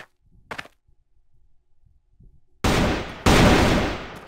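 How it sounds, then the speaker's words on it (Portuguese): Two loud gunshot bursts from the CrossFire shooter game erupt one after the other after a quiet stretch with faint sounds, each burst sharp in onset and decaying in a noisy tail. "Ele dá pra escutar ele atirando."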